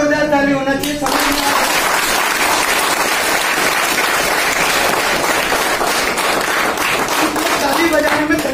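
A voice speaks briefly before an audience at a marketing seminar breaks into loud, sustained clapping, holding strong for several seconds before the voice returns under the tail.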